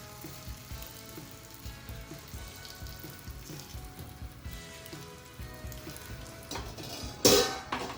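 Jowar thalipeeth sizzles steadily in oil on a hot griddle, a dense crackling hiss throughout with a brief louder burst of spatter near the end.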